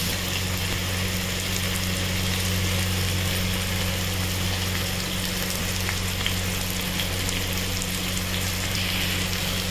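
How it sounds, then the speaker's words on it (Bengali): Spice paste for a cabbage curry fries in a pan with a dense, continuous hiss and sizzle, steady and unbroken throughout, over a low background hum, with no one speaking. "মশলাটা কষাচ্ছি"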